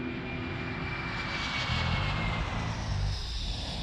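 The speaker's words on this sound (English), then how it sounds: "Flight 593 takes off at 4:39 p.m. local time." Aeroflot airliner jet engines roaring steadily during takeoff, a loud continuous broadband rumble and whine that swells slightly midway and holds without voices.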